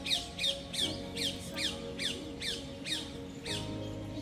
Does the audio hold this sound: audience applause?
no